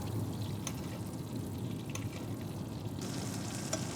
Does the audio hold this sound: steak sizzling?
yes